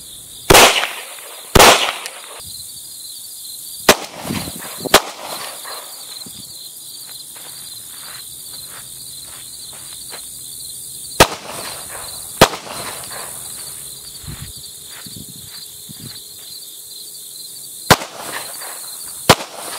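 Sharp gunshots ring out at a marksmanship practice range, a dozen loud cracks in irregular pairs and singles with quiet gaps between, over faint insect chirping.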